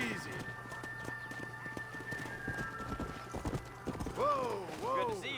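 Horse hooves clip-clop steadily while riding in the Red Dead Redemption video game, a rhythmic run of close, moderate taps, with a horse whinny rising near the end.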